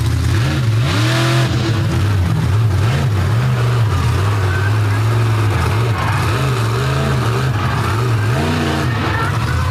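Monster truck engine revving loudly on a freestyle track of gravel, rock and dirt at a fair, deep throttle rising and falling in waves, with a commentator's voice under the roar.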